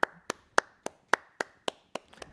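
Online applause at the close of a scientific lecture: a single nearby pair of hands claps about nine times in an even rhythm, each clap crisp and separate, with a couple of faster, softer claps at the end.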